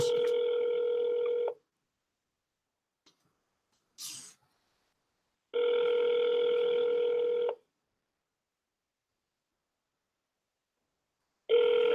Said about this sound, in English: The phone's just ringing.